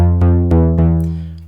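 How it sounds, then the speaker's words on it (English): A Synthstrom Deluge preset synth patch with its resonance turned down plays a loud, warm, harmonically rich sustained tone, with a few sharp note retriggers spaced roughly a quarter second apart before it fades. "I like preset synth number 5. I also like turning down the resonance,"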